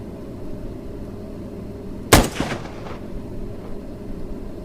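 A single loud, sharp crack of a bolt-action rifle in the VR shooting game Range Day VR, followed by a brief echoing decay over a low, steady background.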